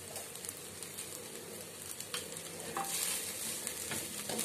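Cabbage and capsicum rice being stirred in a pan with the stove off, a steady soft scraping and faint sizzle throughout, growing slightly louder toward the end, with no voices.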